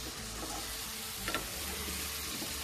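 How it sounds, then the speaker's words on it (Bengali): Boiled potatoes tip into a spice masala that has been fried down in oil until it separates, giving a steady close sizzle with a brief soft clatter as they land midway. "এবার এই যে বয়েল করে রাখা আলুটা এর মধ্যে অ্যাড করে দিচ্ছি"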